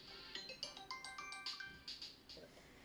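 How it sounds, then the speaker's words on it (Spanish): A telephone rings with a bright electronic ringtone, repeated chirping tones in a steady pulsing pattern, fairly close and clear with no talking over it. "nos llaman por teléfono"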